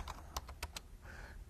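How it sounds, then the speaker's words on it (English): Quick taps on a computer keyboard, five or six sharp clicks in an irregular burst, close and quiet with no voices. "let me start typing these symbols here"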